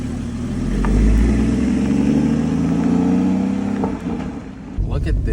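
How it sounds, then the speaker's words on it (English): A yellow Porsche GT4 driving around the block, its engine droning and swelling steadily under light road noise, heard close from inside the car with no talk. "Driving a yellow GT4, bro."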